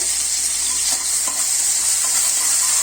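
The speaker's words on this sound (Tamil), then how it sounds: "வெங்காயம் நல்லா சுருள வதங்கட்டும்." Steady, dense sizzling of chopped small onions frying in hot oil, with occasional soft stirring scrapes and pops, continuous and close throughout.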